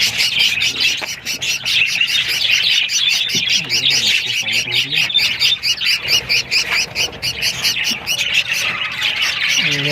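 Budgie parakeets squawk and chirp continuously in a breeding cage as they fight, producing a loud, dense stream of harsh, close calls with no talk.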